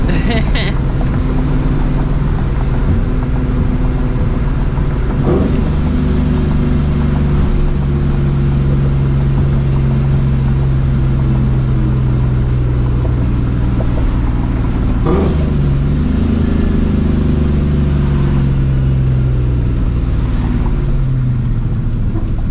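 Loud supercharged New Edge Mustang GT engine with audible blower whine, droning steadily while driving, with two sharp rev surges on downshifts partway through; a continuous close, heavy rumble fills the whole stretch.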